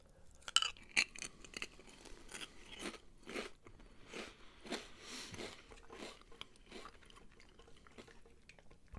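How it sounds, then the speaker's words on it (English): Crunchy potato chips eaten up close at a quiet whispered meal, with sharp crisp bites followed by rhythmic crackling chews and small rustles, loud against near silence with no talk. "And I have some chips here too. Not British chips, like actual, like, crunchy chips."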